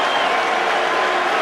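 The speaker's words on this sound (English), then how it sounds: "maybe the applause from England was genuine" Broad, steady applause with some cheering from a large crowd at a cricket match in India, close and continuous throughout with no talk over it.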